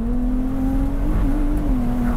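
A Ferrari 296 GTS engine hums steadily under light throttle from inside the car, a loud, sustained drone that rises and dips slightly in pitch, with no talking.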